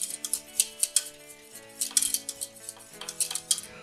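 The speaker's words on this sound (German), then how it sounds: "Das muss natürlich ständig gerührt werden." A spoon stirring sauce with broth in a pot for a kohlrabi gratin, giving repeated close metallic clinks and scrapes against the pot in an uneven rhythm, with no talk.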